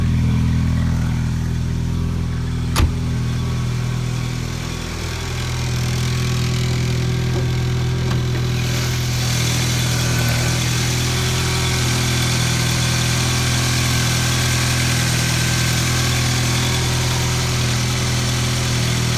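A 1983 Volkswagen GTI engine idles steadily for the whole stretch, a low, even hum with one sharp click early on and no voices.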